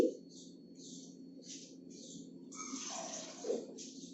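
Water being poured into finely ground cashew powder in a kitchen, a soft continuous trickle beneath faint intermittent hiss, quiet and close.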